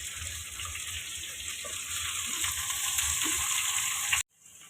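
Wet potatoes and eggplant hit hot oil for an aloo baingan curry, a bright hissing sizzle that grows stronger over a few seconds and then cuts off abruptly, close, with no speech.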